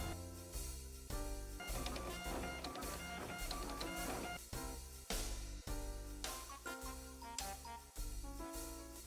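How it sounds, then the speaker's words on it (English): A 3D printer auto-levels and begins printing, its stepper motors giving loud rhythmic tonal whirs and buzzes that change pitch in repeating pulses, with no talking. "your 3D printer will do all the work for you"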